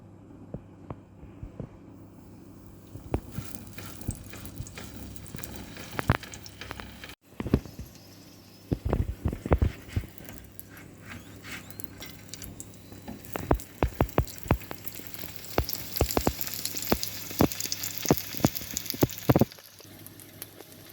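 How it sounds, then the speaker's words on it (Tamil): Oil sizzles and crackles in a pan as roti fries, with scattered sharp pops and a brief hush partway through. "இந்த ரொட்டியை நம்ம பொரிக்க போகிறோம்."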